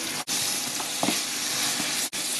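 Spice paste being fried in a pan while cooking a coral fish curry with cauliflower, tomato and beans, a loud, steady hiss of sizzling oil with a few soft stirring scrapes, heard up close without speech.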